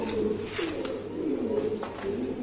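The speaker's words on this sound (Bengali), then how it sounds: "কবুতর গুলো একদম ইয়াং বার্ড" Young Iranian high-flying pigeons coo nearby in soft, repeated rolling calls, fairly quiet and alone, with no talk over them.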